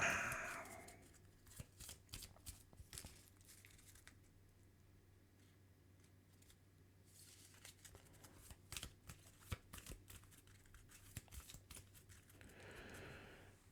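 A deck of Earthborne Rangers game cards is shuffled, with soft riffling clicks and rustles in quick bursts over a quiet background, close and faint.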